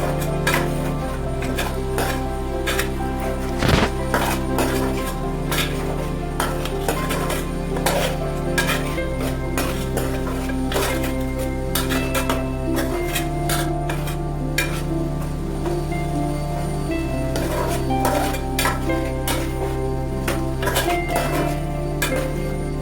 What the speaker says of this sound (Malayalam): ഇനി നമുക്കിത് ചെറുതീയിലിട്ട് നന്നായിട്ടൊന്ന് ഇളക്കി കൊടുക്കാം